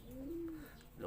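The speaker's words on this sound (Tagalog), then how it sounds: "Ayan mga kalapatids." A pigeon gives a single low, rounded coo at close range, a soft sustained hum in a quiet pigeon loft at night.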